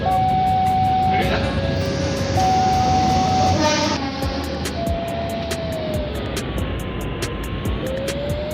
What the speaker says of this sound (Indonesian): kebetulan lagi ada kereta api mau lewat